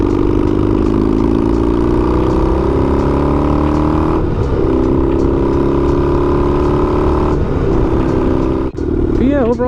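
A Yamaha XS650 chopper fitted with cheap exhaust baffles rumbles loud and close, revving up through several gear changes with a steady droning exhaust note and a voice speaking alongside.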